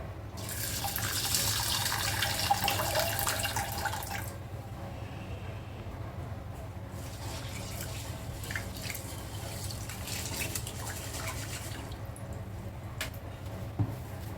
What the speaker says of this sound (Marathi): एक वाटी मसूर घेऊया आणि ती आपण चांगली धुवून घेऊया